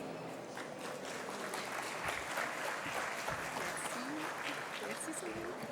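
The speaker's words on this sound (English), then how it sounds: "Je vais vous demander d'applaudir bien fort Stéphanie Demuru." Audience at a Proptech conference applauding a speaker as she is welcomed, steady clapping filling the hall with some voices murmuring underneath.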